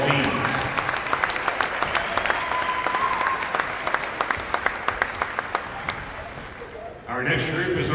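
Sustained applause from a school audience honoring the 2021-2022 Republic Middle School boys basketball teams, with dense clapping and sharp individual claps throughout, easing slightly before a brief swell of crowd noise at the end.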